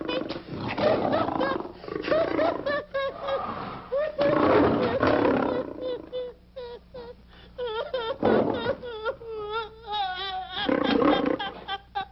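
A lion roars in a 1949 comedy film, with long, rumbling, repeated roars rising and falling over about twelve seconds, loud and close, with brief lulls between the bursts.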